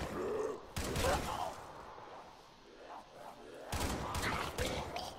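Call of Duty custom zombies gunfire, two bursts of rapid shots separated by a quieter pause, with voices speaking between them.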